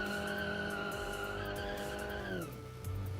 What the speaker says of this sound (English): Would it be faster without wheel spin?